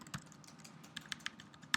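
Typing on a computer keyboard, a handful of sparse, light key clicks at an irregular pace, close and quiet, with no talking.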